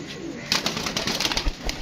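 A pigeon calls nearby in a short, soft run of cooing notes over a quiet background.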